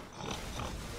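A pig oinks at a pigsty in the video game Black Desert Online, heard as a fairly faint, continuous grunting texture with no speech.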